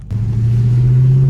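A Dodge Hellcat engine holds a deep, steady low rumble close by, building slightly in a short burst with no talk over it.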